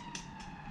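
A toy siren sounds quietly, a steady electronic wail with a brief brighter burst, faint and alone.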